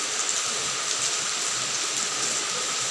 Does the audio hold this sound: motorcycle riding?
no